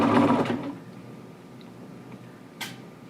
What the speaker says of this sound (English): you are going to be sewing at your 5/8 inch seam allowance, stretching the pant leg that little bit that it needs to be stretched